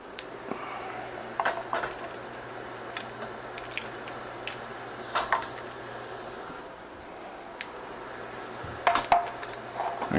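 Glass canning jars are set into a canner rack in a pot of simmering water for canning tomatoes, giving a few soft scattered clinks and knocks up close over a quiet background hiss.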